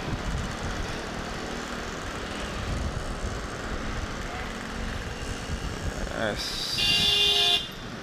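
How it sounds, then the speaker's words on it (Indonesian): Steady night traffic rumble on a city road in Cimahi, near Bandung, Indonesia, with talking throughout, then a loud car horn blares for about a second near the end. "Ada yang minta jalan kok di klakson"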